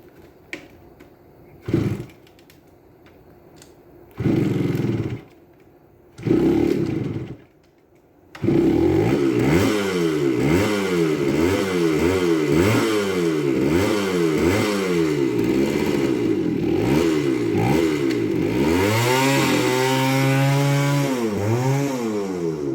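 A 1978 Kawasaki KE100 motorcycle with a new carburetor and choke on, several short kick attempts that sputter, then a two-stroke engine catching and running loud and close, revving up and down repeatedly.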